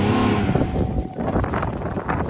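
A Cadillac CTS drives off in mud, its engine roaring steadily near the microphone with churning, sloshing noise and wind buffeting and no talking.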